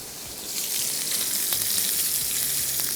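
Butter and milk heating in a cooking pan for mashed potatoes, making a steady soft sizzle and bubbling hiss with faint pops, close by.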